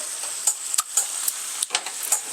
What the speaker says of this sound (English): There you got a pound of chicken, sauteing up.